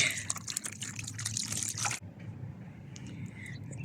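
Cold water pours and splashes into a container early in the morning for feeding animals, a fairly quiet gush and trickle that stops abruptly halfway, followed by faint drips and soft background sounds.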